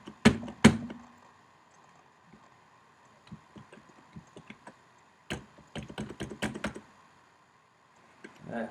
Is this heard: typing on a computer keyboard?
yes